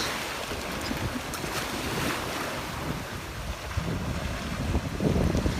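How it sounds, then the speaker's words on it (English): Steady rush of surf and ocean waves on a beach, mixed with gusty wind buffeting the microphone, continuous and fairly loud, swelling a bit toward the end. "I know it's getting a little bit windy all of a sudden"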